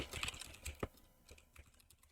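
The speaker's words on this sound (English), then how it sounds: "there's a few different things that we have to type out" Quiet keystrokes on a computer keyboard while coding a scripting language in C, a quick close cluster of clicks followed by a few sparser taps, faint and without talk.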